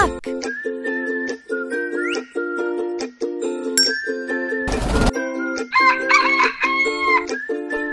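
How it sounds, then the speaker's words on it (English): A cartoon chicken in a kids' animal puzzle video game gives a short burst of clucking and crowing over a steady, looping, bouncy game melody with chiming tones. "chicken."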